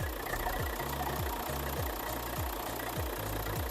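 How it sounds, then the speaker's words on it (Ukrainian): A 2013 Renault Kangoo Maxi van engine idles smoothly with a low, regular thrumming pulse, steady and close, with no voices over it. "Двигун працює рівно."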